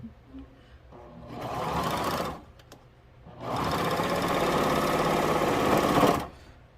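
Sewing machine stitching through several thick layers of fabric for a mitten-style soap holder, two loud sustained runs of even mechanical chatter with a brief pause between, close and alone.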